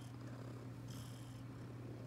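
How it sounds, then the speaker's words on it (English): A cat purrs softly in a continuous low rumble, steady and close, with faint background noise and no talking. "You're such a naughty cat."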